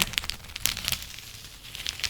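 A plastic bag filled with rice is crinkled up close, producing bright, crisp crackles in quick irregular bursts with soft grainy shifting between them.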